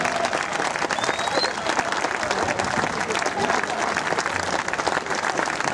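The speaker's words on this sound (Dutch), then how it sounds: "Mag ik daar even een applaus voor" A concert audience applauds the Dutch Royal Navy Marine Band, a dense, continuous wash of clapping with a faint crowd murmur underneath, steady and full throughout.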